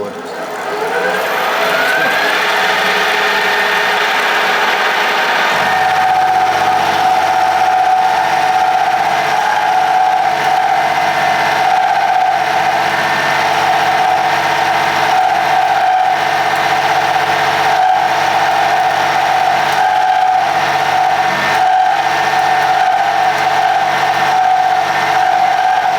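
A Harrison universal milling machine running in high gear gives a loud, steady mechanical drone with a strong sustained whine. A rising spin-up comes in the first few seconds, then it runs evenly and continuously with no talk.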